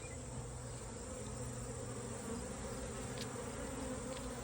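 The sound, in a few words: honeybee swarm buzzing in a cluster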